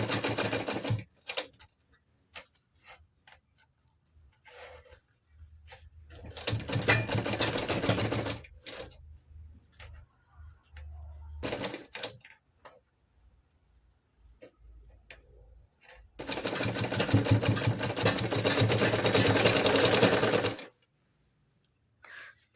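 A sewing machine stitches piping onto a katori blouse in two sustained, rapid rattling bursts, separated by quiet pauses and light handling clicks.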